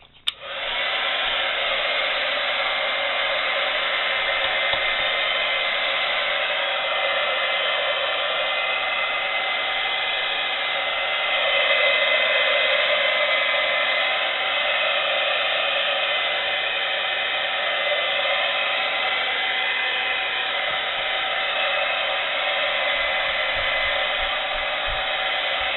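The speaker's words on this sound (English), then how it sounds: "I have one of those really loud heat guns" A loud heat gun blows steadily and close up for the whole stretch, drying ink over gesso on a mixed media book page, a constant whooshing roar with no pauses.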